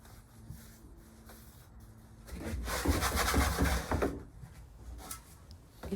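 A pizza peel is shaken briefly before launching into an Ooni pizza oven, giving a close, scraping rub that swells for about two seconds, then settles back into quiet room tone.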